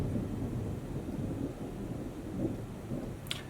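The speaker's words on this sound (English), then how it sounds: "That was a lightning strike. Wouldn't be surprised if we hear some thunder here." Low, faint rumble of distant thunder following a lightning strike rolls on with steady wind noise, ending in a short sharp crackle.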